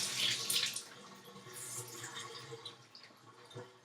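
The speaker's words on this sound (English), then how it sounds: "I need to dampen this, so I'm going to dampen that in my bathtub real quick." Tap water runs into a bathtub while a makeup sponge is dampened under it, a steady faint splashing that continues throughout.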